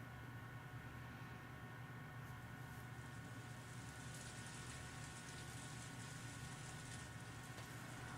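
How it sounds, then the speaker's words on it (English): Steady rain falling as an ambient sound effect in a visual novel video game, a soft, even hiss of downpour that runs unbroken and fairly faint throughout. "All that could be heard was the sound of the rain"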